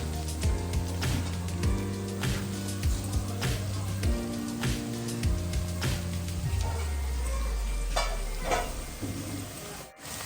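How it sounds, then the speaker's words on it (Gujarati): Green garlic frying in a pan while it is stirred, a faint sizzle with scattered scraping ticks running under a loud melodic music backing throughout. "હવે નાખીશું આપણે લીલું લસણ"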